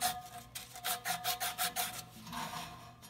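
Sandpaper rubbing a part by hand during replacement of an X-13 blower motor in an ICP air handler, a quick series of rhythmic rasping strokes, close and fairly quiet.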